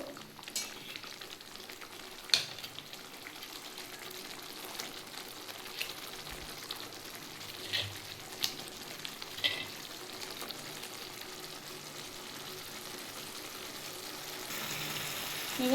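Bata fish frying in hot oil, a steady low sizzle running throughout with scattered sharper crackles and pops, moderately quiet and close, no voices.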